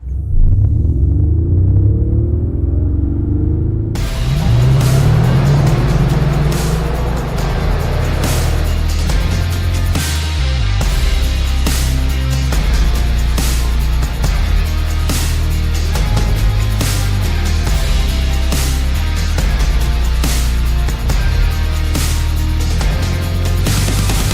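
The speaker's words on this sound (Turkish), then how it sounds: "Çok güzel bir motor sesi adapte etmişler elektrikli G serisine." A deep, powerful simulated engine rumble from an electric Mercedes-Benz G580 SUV that grows louder after a few seconds and holds steady, a throaty V8-like drone with occasional sharper bursts.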